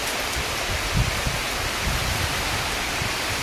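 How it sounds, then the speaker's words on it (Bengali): Heavy rain falls in a continuous, steady wash of hiss with a few faint patters on a surface, moderately loud and without any speech. "পুরো ঝমঝম করে নামছে, আওয়াজ হচ্ছে কিন্তু"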